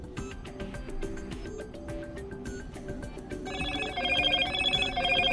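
Incoming call ringtone on a Motorola Moto G86 Power 5G phone, a continuous melodic tone pattern that grows louder and fuller partway through, steady and close, with no talking.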